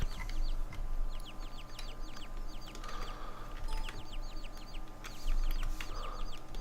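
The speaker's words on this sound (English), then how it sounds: "These are cute" Several chickens cluck and chirp repeatedly over a steady background hum in the farming video game Hof Bergmann, the bird calls coming in quick overlapping bursts throughout.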